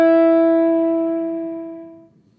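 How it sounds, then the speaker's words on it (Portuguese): A single electric guitar note rings out through compressor and distortion pedals, a loud, buzzy, harmonic-rich tone that sustains smoothly and fades gradually over about two seconds, heard alone. "Agora, usando compressor e distorção."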